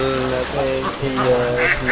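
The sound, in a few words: ducks quacking on a duck farm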